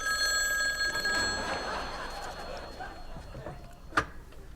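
Telephone bell ringing at a restaurant, steady tonal rings with faint background murmur, ending in a brief sharp click.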